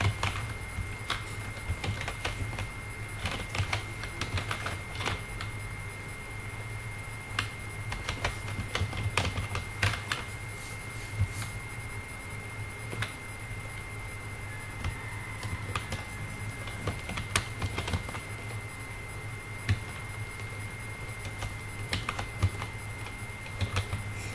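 Soft, quick clicking of computer keys comes in irregular bursts over a faint steady background hum, with no one talking.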